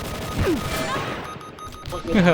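Bursts of gunfire in the online shooter XSHOT, loud and close, rattling in quick volleys while excited voices talk over the shooting.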